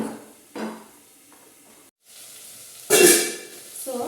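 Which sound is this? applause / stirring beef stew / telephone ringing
stirring beef stew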